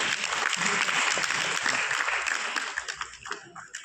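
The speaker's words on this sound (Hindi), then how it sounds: "एक बार इसके लिए जोरदार तालियां वहां भेजा जाए।" An audience at a hotel launch event applauds new diamond members, loud dense clapping that starts strong and thins out toward the end.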